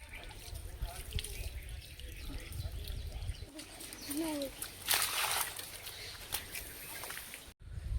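Water is splashed and poured onto pipal and banyan trees at a village ashram. Faint sloshing and splattering sounds rise under a voice, birds call in the background, and a brighter splash comes near the middle.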